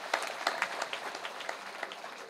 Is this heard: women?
yes